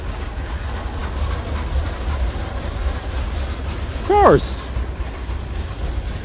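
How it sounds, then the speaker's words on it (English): A train rolls past on the railway near a truck stop on I-84 in Oregon, giving a steady low rumble of rail cars with a brief squealing wheel screech midway, and a voice speaks briefly. "Had to get a footage of the train."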